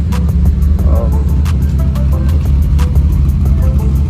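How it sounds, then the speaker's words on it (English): SR20-engined Polo idles on its own with a steady, deep throbbing rumble, loud and close, carrying a faint repeating tick over the even drone. "But yeah, she's idling on her own."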